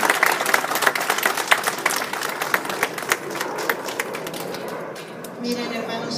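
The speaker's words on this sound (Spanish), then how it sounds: "Un aplauso al Señor Jesús." A church congregation claps together in a dense burst of applause that thins into scattered claps and fades, with voices speaking in the room over it.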